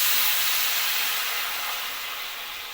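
Water poured into a hot pan of sautéed semiya upma ingredients gives a steady, loud hiss and sizzle that eases off slightly over a few seconds, with no talking.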